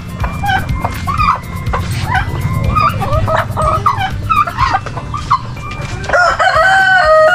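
A busy flock of Decal Brown chickens clucks and squawks nonstop up close at a poultry farm, with a rooster crowing loudly at the end and a dog barking somewhere among them.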